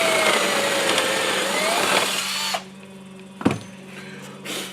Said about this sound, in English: just drill through that hole